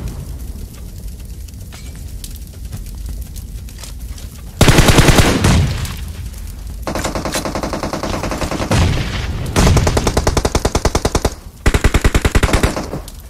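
Rapid automatic gunfire from a BGMI match on the Miramar map, loud bursts of repeated shots crackling in long sequences, with quieter stretches of game ambience between the volleys and no talk.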